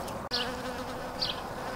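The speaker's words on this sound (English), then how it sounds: "Here's a lovely little bee." A small bee buzzes close around a broccoli plant in a vegetable garden, a steady droning hum that swells briefly twice as it moves nearer, with no talking.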